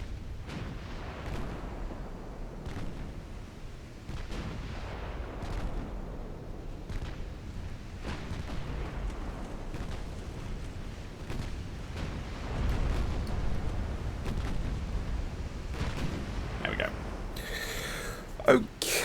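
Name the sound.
naval gunfire from the ship Kanaris in a video game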